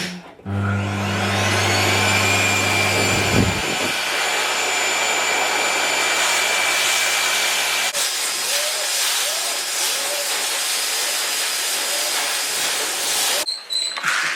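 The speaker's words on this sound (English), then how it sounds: "Let's see what you like with the dryer." A loud, steady pet hair dryer roars with a broad hiss and a constant high whine while drying a dog, running continuously and briefly dipping before cutting off near the end.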